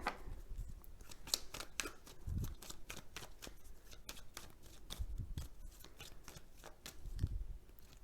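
Tarot cards being shuffled and pulled, a faint, quiet run of rapid papery flicks and riffles with a few soft thumps as cards are set down, with no voice present.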